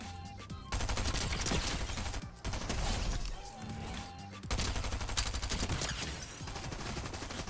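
Rapid SMG fire in the Fortnite video game, loud dense bursts of automatic gunshots crackling almost nonstop with brief pauses, layered over game sound and music.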